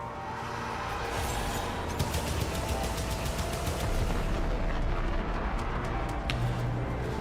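Ships blowing up in the video game Warframe, a dense, continuous barrage of explosive bursts and rapid crackling blasts that stays loud throughout, with no speech.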